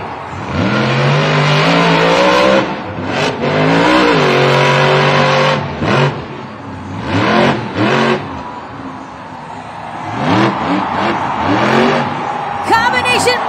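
Monster truck engine at a Monster Jam World Finals freestyle run roars and revs hard through a wheelie and backflip, pitch surging and dropping repeatedly, loud and close, with a brief tire squeal near the end.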